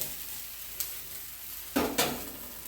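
A raw banana rotti fries in oil on a hot pan, hissing steadily while sharp clatters mark the flip, with a couple of brief louder bursts of sizzle.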